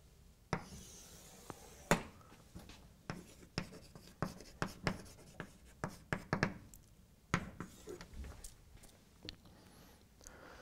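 Chalk or marker writing on a board during a mathematics lecture: a long run of quick taps, strokes and scratches in an irregular rhythm, fairly faint and close, with no talking over it.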